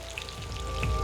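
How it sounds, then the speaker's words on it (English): Rain beginning to fall outdoors while steaks cook, with scattered light raindrops pattering on surfaces over a steady background hiss, growing slightly denser toward the end. "as you can hear, it started raining already"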